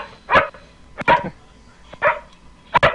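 A dog barks four times at roughly even intervals, close and loud, with quiet gaps between the sharp barks.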